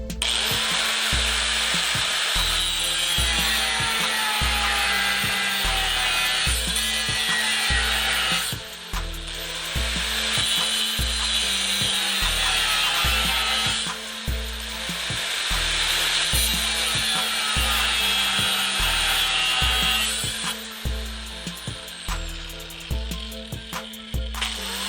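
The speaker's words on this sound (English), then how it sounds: "going to cut them with, is an angle grinder" An angle grinder cuts metal tubing clamped at the edge of a table, making a loud, harsh, continuous whine broken by several short pauses and bursts of scraping grind.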